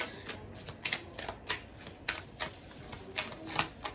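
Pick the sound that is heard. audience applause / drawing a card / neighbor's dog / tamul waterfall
drawing a card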